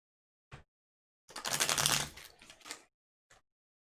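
Arkham Horror game cards being shuffled, a short tap, then a dense riffle of rapid clicking flicks lasting about a second and a half, followed by a softer tail and a final light tap, close up.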